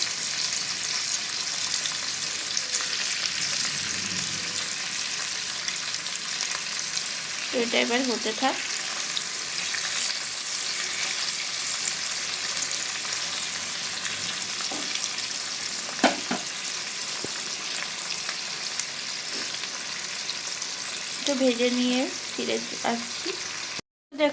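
Food fries in oil with a continuous close sizzle, broken now and then by brief scraping and clinking of a utensil.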